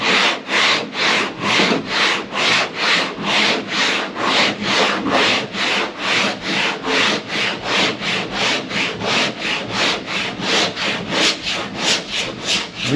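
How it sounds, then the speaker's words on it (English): Rhythmic back-and-forth scraping of sandpaper by hand on a metal Power Wagon door panel, steady strokes repeating about twice a second, close and loud with no talking. "I just keep sanding"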